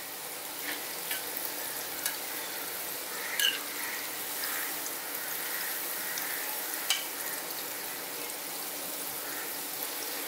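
Moringa falafel fry in a pan of hot oil with a steady, close, even sizzle and faint crackles, with no talking.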